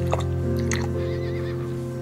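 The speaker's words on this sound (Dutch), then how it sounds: "Al die paardjes." Horses neigh and whinny in a stable in the video game Star Stable, one shrill whinny rising over a steady hum of background music and ambience.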